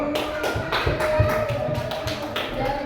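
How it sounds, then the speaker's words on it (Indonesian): A class of students claps hands together in a classroom lesson, a dense run of overlapping claps close by that lasts the whole stretch, with light voices mixed in. "Tepuk tangan dulu"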